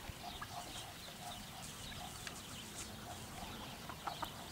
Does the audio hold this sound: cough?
no